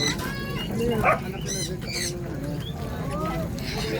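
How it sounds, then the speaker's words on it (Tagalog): Several birds chirp and call through the clip over steady outdoor background noise, with a person speaking briefly. "Daming ibon guys."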